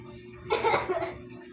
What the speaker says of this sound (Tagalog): inuubo ako ngayon